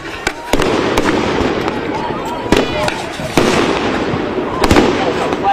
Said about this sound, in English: Flashbangs, it's being fired over.